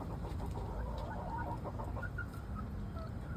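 Backyard hens cluck softly and repeatedly close by, their short murmured calls overlapping against a steady low background rumble.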